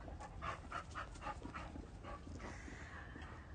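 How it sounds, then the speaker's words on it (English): A small indoor dog pants rapidly with faint whimpers and a few soft yips, quiet and close, with steady background noise and no clear loud barks. "My dog is having a hissy fit. You hear me? I don't know what to do about it. She's always barking."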